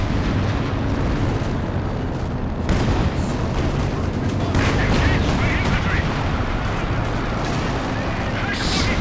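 Anti-tank guns fire in a Company of Heroes 2 battle with dense, continuous booms and artillery blasts layered over one another, loud and close, while a commentator talks throughout.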